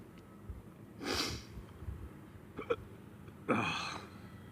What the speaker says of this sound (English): I felt the hiccups coming, I knew it.